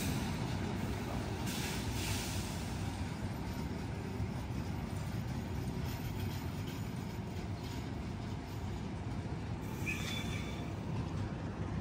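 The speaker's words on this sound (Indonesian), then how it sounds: "Yang baru masuk ini rangkaian kereta api Kertajaya dari Surabaya Pasar Turi tujuan Pasar Senen" The Kertajaya train from Surabaya Pasar Turi, bound for Pasar Senen, rolls into a station with a continuous low rumble of wheels and carriages, faint and distant, with occasional brief metallic squeals.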